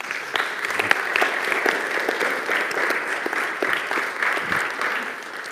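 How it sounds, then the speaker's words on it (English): Members of a church congregation applaud themselves during a monthly ministry celebration: sustained, dense clapping from a sizable crowd, even and lively throughout, with no pause. "Give yourselves a, a round of applause."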